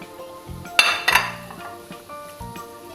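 Tomatoes go into a pan for red snapper fish head pecak, bringing close clinks and clatter of utensils against the pan with two louder clanks and a faint sizzle underneath.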